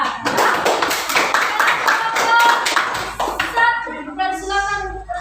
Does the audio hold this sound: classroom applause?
yes